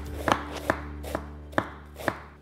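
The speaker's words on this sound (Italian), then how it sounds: "Ora tocca all'insalata iceberg, la vado a tagliare molto finemente." A knife finely chops iceberg lettuce on a cutting board, five or six crisp, evenly spaced thuds close up over a low background hum.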